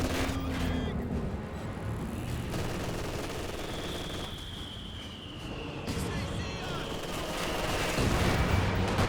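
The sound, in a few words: Panzerwerfer rocket barrage in video game Company of Heroes 2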